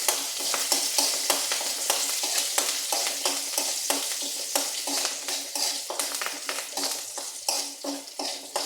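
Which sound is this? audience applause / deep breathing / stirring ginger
stirring ginger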